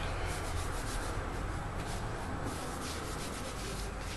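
Face cream is rubbed between the hands, giving a soft continuous close-up swishing friction that is steady and faint, with no talking.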